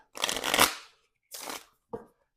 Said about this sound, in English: So I'm just going to give these a shuffle.